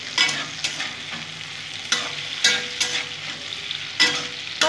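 Potatoes fry in a pan as a spatula stirs them, with close scraping strokes every second or so over a continuous sizzle, no talking.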